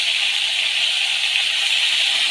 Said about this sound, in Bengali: মাছগুলো ভাজা হচ্ছে এখানে